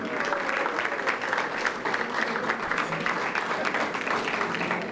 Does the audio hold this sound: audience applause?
yes